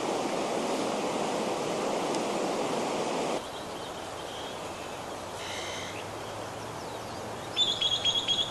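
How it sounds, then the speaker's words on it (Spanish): Broadband rushing of a river stream where wild trees grow, steady and fairly loud for the first few seconds, then softer and more distant, with brief bird chirps toward the end. "Estamos en este río"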